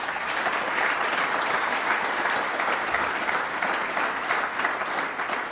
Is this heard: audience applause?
yes